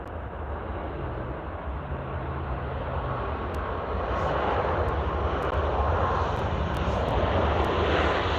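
An Air Canada heavy jet airliner landing and braking hard on the runway at Vancouver International Airport, a loud sustained roar that swells as the braking goes on, with faint clicks in the background.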